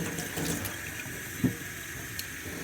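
Strawberries being rinsed under a running kitchen tap, a soft steady water flow with a faint splash or knock partway through, quiet and without voices.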